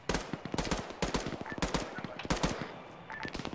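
Rapid bursts of gunfire from a combat video game, coming from the southwest and sounding like automatic weapons, with repeated sharp cracks in clustered volleys close together and one brief tonal beep mixed in.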